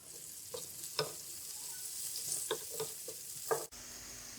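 Onions frying lightly in half a cup of oil for a spicy aloo karahi, with a soft steady sizzle broken by scattered spoon taps and stirring clicks, close and quiet with no talking.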